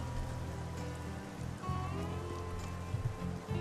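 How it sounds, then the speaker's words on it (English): Steady rain falls in the survival town-building game Depraved, a continuous close hiss of drops on surfaces with a low rumbling bed, holding even through the clip. "Get a bit of rain."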